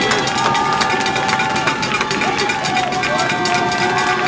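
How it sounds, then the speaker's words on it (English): High school football crowd cheering in the stands at a Fall Creek game, a dense steady roar with rapid metallic cowbell clanging throughout, close and loud. "Fall Creek crowd is making the noise right below us. They've got the cowbells out tonight."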